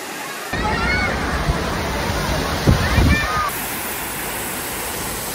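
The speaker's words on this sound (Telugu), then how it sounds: "దగ్గరే వచ్చి చూస్తే మాత్రం చాలా బాగున్నాయి వాటర్ ఫాల్స్" A waterfall roars as a broad, continuous rush of falling water heard up close, with brief splashy surges in the middle; voices speak now and then over it.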